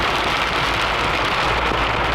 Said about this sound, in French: Il y a carrément de la grêle.